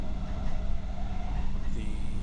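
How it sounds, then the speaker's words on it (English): Riding inside a train in Luxembourg on a rainy day, with a steady low rumble and rolling rail noise throughout, close and continuous. "But just cruising along in the train."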